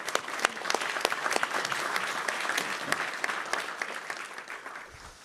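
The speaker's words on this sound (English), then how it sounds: "round of applause for Joe" A conference audience at a tech summit gives a round of applause after a talk, with sharp individual claps standing out over a dense wash of clapping that gradually thins toward the end.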